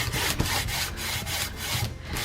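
Rag rubbing stain into a small wooden centrepiece, a rough, rhythmic back-and-forth scrubbing close up, about eight strokes with no talking.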